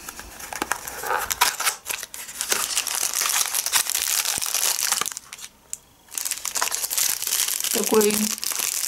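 Close, loud crinkling and rustling of a plastic packet being handled and torn open, with a short quiet pause partway through.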